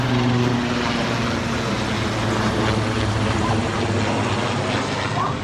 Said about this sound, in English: That one's not an Army helicopter.